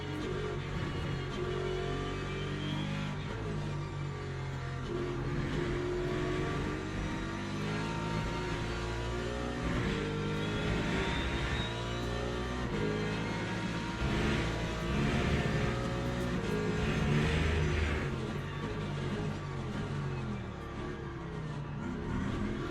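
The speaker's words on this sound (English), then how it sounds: "Incoming hypercars." Hypercars accelerating past in a Le Mans racing video game, a continuous layered engine roar with rising and swelling revs that stays loud throughout without talk.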